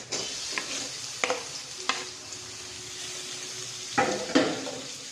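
Tomatoes and onions fry in a pan for Maggi noodles, a steady sizzle broken by several sharp scrapes and taps of a utensil against the pan, close by.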